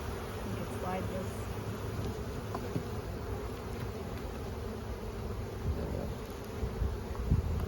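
Honeybees drone in a steady, dense buzz close by throughout a full Langstroth hive inspection on soybean hives, with a few louder bursts near the end.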